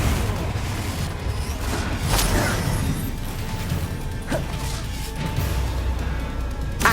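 Confringo fire spells in the video game Hogwarts Legacy hitting their targets: loud booming impacts and crashes, with sharp bursts at intervals over a dense, rumbling game soundscape, no talk.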